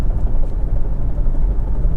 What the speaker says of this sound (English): So I'm just looking at a Chinook helicopter really low.